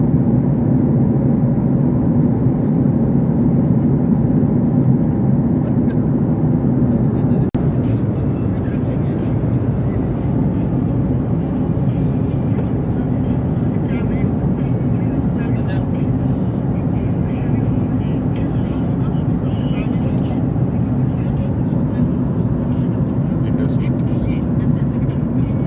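A passenger airliner cabin in flight fills the whole stretch with a steady, loud low roar and broadband hiss from the engines and airflow. It continues unbroken from start to end, with no voices heard.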